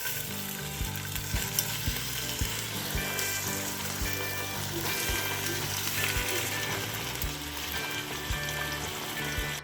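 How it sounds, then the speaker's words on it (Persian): Steady, busy sizzling and crackling of chicken frying in hot oil, close and continuous, with occasional stirring clatter. "و داخل روغن مرغا رو سرخ میکنیم."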